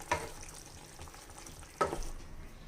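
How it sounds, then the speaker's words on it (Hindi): Chicken for biryani frying in a pot over low to medium flame, with two brief scraping stirs a little over a second apart above a soft, steady sizzle. "तो चिकन को पकते हुए 10 मिनट हो गए हैं कम से कम"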